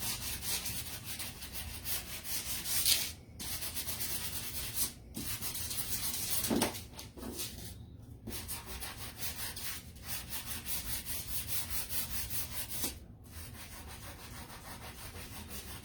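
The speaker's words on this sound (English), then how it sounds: "I'm just going to take my sanding block and" A sanding block rubbed back and forth over painted wood to distress it, steady close scratchy strokes in a continuous rhythm with a few brief pauses and no talking.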